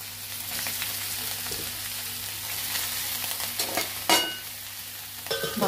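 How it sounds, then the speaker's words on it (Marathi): Tandulja greens fry in hot oil with garlic in a pan, giving a continuous close sizzle broken by stirring scrapes and a sharp clatter near the end, with no speech. "तिथे बघू शकता अशा पद्धतीने भाजी छान परतून घ्यायची।"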